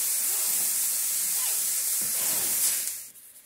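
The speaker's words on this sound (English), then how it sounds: "You brown the hamburger meat." Ground hamburger meat browning in a pan for campfire stew, a steady loud sizzling hiss that holds for about three seconds, then quickly fades away.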